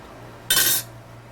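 A spoon knocks against a dish while ramen is being made, one short, bright metallic clatter lasting a fraction of a second amid an otherwise quiet room.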